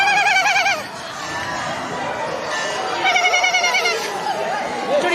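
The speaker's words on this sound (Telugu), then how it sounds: "చూడు ఇవన్నీ మేకలే" Goats bleat in loud, wavering calls around a temple, with a burst at the start and another cluster a few seconds later over a busy ambient background.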